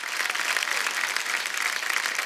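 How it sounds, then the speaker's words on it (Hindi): Loud, sustained audience applause welcoming actor Sonu Sood, a dense wash of clapping that stays even from start to finish with no talk over it. "जोरदार तालियां।"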